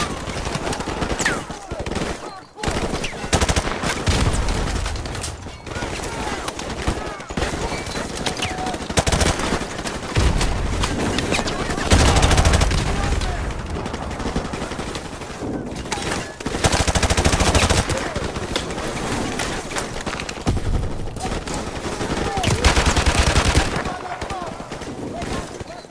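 Heavy gunfire in the Call of Duty: Modern Warfare video game, with continuous automatic bursts and booming shots over the whole stretch, loud and close, mixed with in-game shouting and speech.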